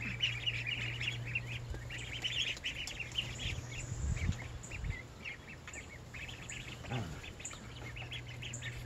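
Two-week-old ducklings splash and flutter in water during their first bath. Their high chirps and peeps run steadily throughout, with splashing and wing flutters rising in bursts near the middle.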